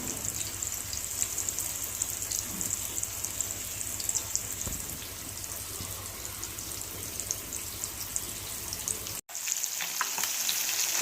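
Kendai fish fries in hot oil in a pan, a continuous close crackling sizzle with faint pops, briefly cut by a short dropout near the end before the frying resumes.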